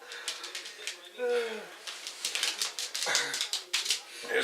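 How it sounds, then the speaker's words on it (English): Dogs' claws clicking in a quick run of light taps, mixed with a brief whine and other scattered sounds, close by. "Here's the dogs again. You hear the click, click, click, click, click."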